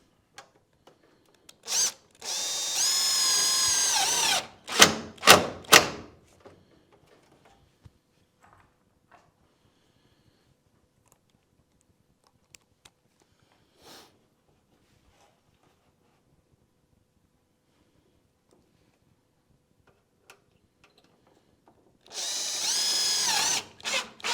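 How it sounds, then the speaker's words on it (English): A power drill drives screws into a greenhouse roofing panel fitted with foam strips in its valleys: two loud sustained whirring bursts with brief stops between, a long quiet stretch of faint clicks, then another whirring burst at the end. "So I'll screw that down."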